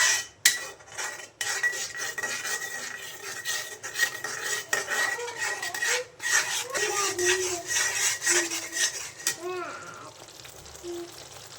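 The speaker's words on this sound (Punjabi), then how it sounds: "ਇਸੇ ਤਰੀਕੇ ਨਾਲ ਆਪਾਂ ਦਹੀਂ ਨੂੰ ਹਿਲਾਉਂਦੇ ਰਵਾਂਗੇ ਲਗਾਤਾਰ" Yogurt stirred continuously in a pan on a gas stove while cooking an aloo gobhi matar sabzi: a steady, close scraping and rubbing of a utensil against the pan, with brief talk toward the end.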